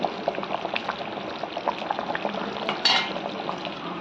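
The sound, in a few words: frying mutton kola urundai balls with chana dal in oil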